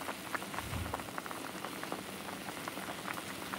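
Water boiling hard in a pot of yellow corn, a steady dense bubbling and popping hiss at close range throughout, with no talk.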